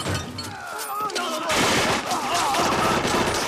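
Gunfire from a staged action scene with men turning tables over for cover, rapid overlapping shots forming a loud, dense fusillade that runs the full length and fills the mix, with raised voices mixed in.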